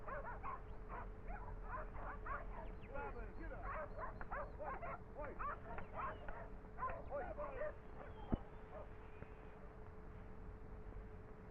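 Several sheepdogs bark repeatedly in sheep yards at a shearing, quick overlapping bursts at a moderate distance, with yips mixed in and a steady hum underneath.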